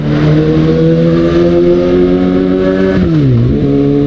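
A Kawasaki Ninja ZX-6R sport motorcycle with a Burnout aftermarket exhaust holds a loud, steady throaty idle, then dips and rises again in a brief rev near the end, with no talking.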